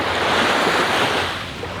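Ocean waves wash and roar continuously, close and loud, with a breezy rush and no voices.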